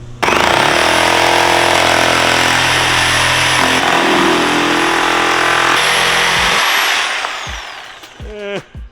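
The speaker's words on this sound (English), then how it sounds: "let's get the power tools out" A loud power tool grinds and cuts through a car part steadily for about seven seconds with a high whine, then spins down and stops, followed by a few clanks.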